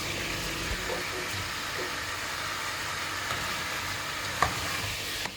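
Chicken pieces fry in oil for biryani with a steady, dense sizzle and crackle. A few soft clinks from stirring come through at close range.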